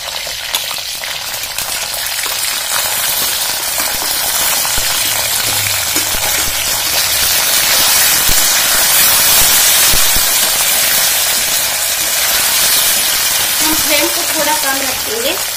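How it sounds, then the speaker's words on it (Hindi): Sliced mushroom shapes made from potato go into a hot pan and sizzle and hiss loudly and steadily, a dense frying sound close by throughout with no speech. "अब हम उसमें ये मशरूम को डालते जाएंगे।"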